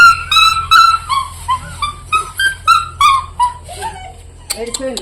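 Dogs whimper and whine in a series of high, wavering cries, close by and repeated, with a few yips near the end.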